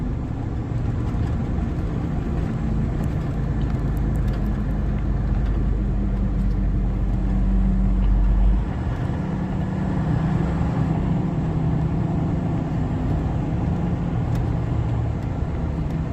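A truck engine runs steadily while driving, a continuous deep rumble with road noise that stays loud and even throughout, with a slight shift partway through and no voices.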